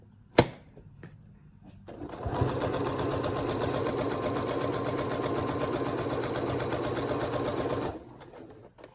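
Sewing machine stitching a fabric mask with elastic, a sharp click followed by a steady rapid mechanical whir running for about six seconds, then stopping.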